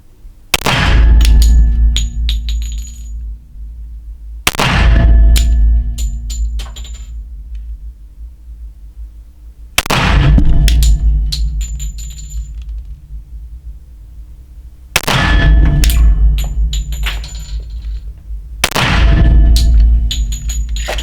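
Five loud, sharp gunshots from a Glock 41 pistol in .45 ACP, fired one at a time at several-second intervals, each with a ringing metallic tail fading into silence.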